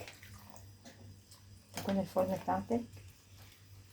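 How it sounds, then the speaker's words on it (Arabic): Milk poured into a dish for an Egyptian country-style baked rice, a soft liquid trickle and splash running for a few seconds beneath someone talking. "هبتدي بقى احط اللبن بتاعي"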